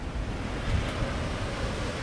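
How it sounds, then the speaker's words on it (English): Ocean surf rolls in below a hillside trail near pools and a black sand shore, a steady broadband wash with wind noise on the microphone and no distinct wave breaks, constant and moderately loud throughout. "then the surf with some nice waves coming in"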